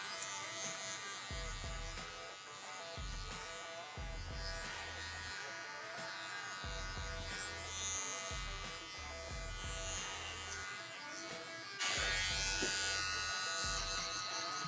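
Electric hair clippers buzz steadily while cutting hair during a pompadour fade, the motor whine constant and close, with intermittent low thumps and brushing as the blades pass over the head and the pitch shifting slightly near the end.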